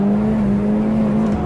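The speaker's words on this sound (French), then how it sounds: "Je fais fumer les pneus." In a VR hill-climb racing game, a Golf GTI 16V spins its tires under a loud, steady engine drone that holds one sustained pitch, with a faint squealing edge layered on top.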